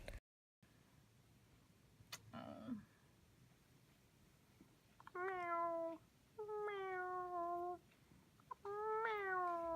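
A cat meows three times, long drawn-out cries close by, spaced a second or so apart against quiet background noise.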